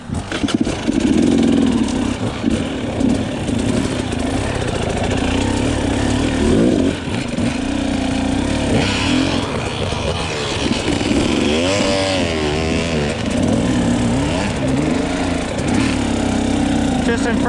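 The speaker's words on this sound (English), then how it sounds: "My bike, I'm just letting it lug up." A dirt bike engine lugs up a hill in low gear, a loud close chugging drone with labored pulses and brief rises in revs, and a voice speaks briefly over it.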